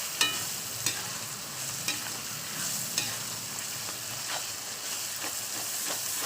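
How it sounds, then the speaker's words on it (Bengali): Garam masala powder frying in oil with turmeric for a hotel-style biryani, a steady sizzle with periodic scrape-and-clack stirring strokes about once a second, close and moderately loud. "দিয়ে দিলাম গরম মশলা গুঁড়ো, দিয়ে ভালো করে আবারও তেলের সঙ্গে কষিয়ে নিচ্ছি"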